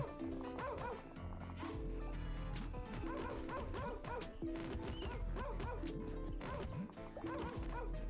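Hostile dogs in the video game Bone to gather bark and yip during an attack, amid dense game music and thumping combat hits, loud and continuous across the stretch.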